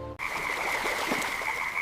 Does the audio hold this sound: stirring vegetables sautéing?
no